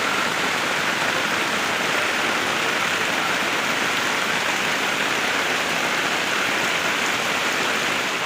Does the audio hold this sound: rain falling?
yes